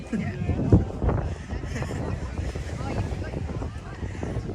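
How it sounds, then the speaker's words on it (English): Steady wind rumbles and buffets against the microphone at an outdoor protest near a coal port, a continuous low roar that swells and dips slightly throughout. "It's windy today too."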